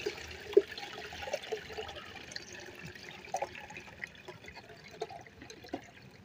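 Homemade liquid organic fertilizer, made from kitchen waste, is strained, giving a steady low splashing and trickling of liquid with scattered drips and small knocks, fairly quiet and close.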